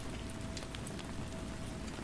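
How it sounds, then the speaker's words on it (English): Steady rain falls on a surface in a dark room at twilight, a constant dense patter with scattered brighter drops, even and unbroken throughout with no voices. "The rain's gentle serenade persisted, a constant companion in the twilight hours."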